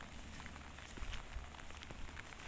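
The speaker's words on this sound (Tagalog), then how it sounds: "kasi panay na ang ulan" Rain falls steadily on an outdoor hillside planting area, a dense even hiss with scattered drop patters and faint low rumbling, continuous throughout.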